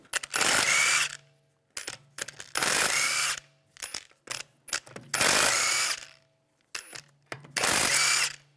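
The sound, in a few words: power tool with 17mm socket removing lug bolts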